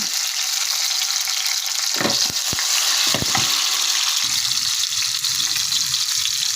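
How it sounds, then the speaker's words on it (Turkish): Yellow bell pepper sautéing in hot oil, a loud close hiss of frying with a few sharp crackles and stirring clatters as the pieces hit the pan, continuous throughout with no voices. "Şimdi sotelemeye geçiyorum. Öncelikle sarı biberimi atıyorum yağın içine."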